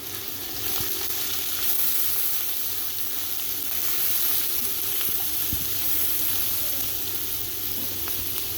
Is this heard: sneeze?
no